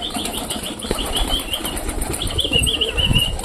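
Pet pigeons flap their wings close by as a flock flies into a coop, a dense fluttering whir that continues throughout with a soft chirping call over it.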